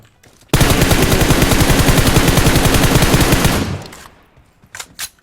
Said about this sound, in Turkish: DP ile birini vurdu.